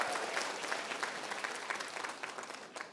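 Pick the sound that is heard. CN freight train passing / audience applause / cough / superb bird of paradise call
audience applause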